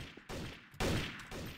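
Video game gunfire as a character stands still and shoots, short loud bursts of rapid shots with brief gaps between them, no talk.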